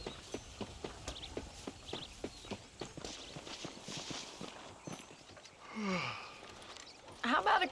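Horse hooves clip-clop at a steady walking rhythm in Red Dead Redemption, moderately close and fairly quiet, while people talk over them and a brief whinny-like sound and louder noise come near the end.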